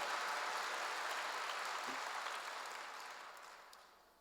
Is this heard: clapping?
yes